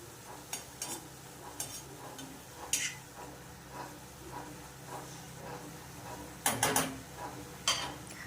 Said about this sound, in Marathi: ही पाणी आटेपर्यंत आपल्याला छान असं 2-3 मिनटासाठी भाजी परतून घ्यायची आहे